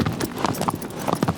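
The horse Agro's hooves clip-clop in an irregular, close trotting rhythm in the game Shadow of the Colossus, a series of crisp distinct hoofbeats heard alone.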